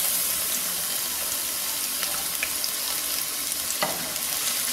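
Garlic fries in a clay pot for egg fried rice, giving a steady, close hiss and sizzle with a few faint clinks of stirring.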